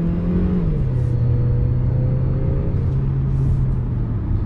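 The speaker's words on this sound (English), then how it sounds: "Seem to do a really great job of shifting the gears from the 7-speed dual clutch transmission." A 2020 Mercedes-Benz GLB 200 under way with its 7-speed dual clutch transmission: a loud, steady interior engine drone with a pitch drop early on as a gear changes, then an even hum.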